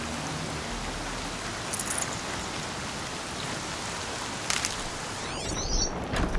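Rain falls steadily in Horizon Zero Dawn, a dense, even hiss of drops that continues throughout, with a few brief brighter game sounds near the end and no talking.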